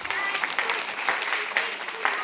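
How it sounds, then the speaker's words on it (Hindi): A group of children or young people clapping in a room, with a run of scattered, uneven claps rather than three crisp unison beats, mixed with murmuring voices throughout. "अगर आपको बहुत मजा आया तो 3 बार ताली बजाएंगे बस।"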